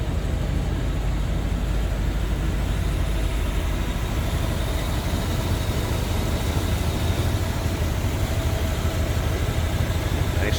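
A steady, low engine rumble from a 1970 Chevrolet Corvette's 454 big-block V8 idles smoothly throughout, even and unbroken, with no voices over it.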